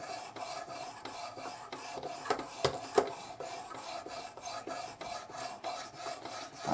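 Knife blade rubbed across the abrasive of a Worksharp Precision Adjust sharpener, a close, steady series of rasping strokes in a regular back-and-forth rhythm with a few sharper scrapes midway.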